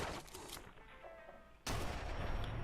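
A laser turret fires in Fallout London: bursts of rapid zapping shots, a sharp onset followed by a sustained loud barrage, with no talking.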